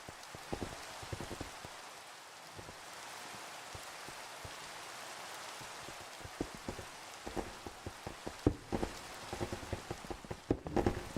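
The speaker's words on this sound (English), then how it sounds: "This rain can stop any dang time," Rain falling in Minecraft, a steady patter of drops on surfaces with scattered louder splats that grow more frequent toward the end, heard alone without talk.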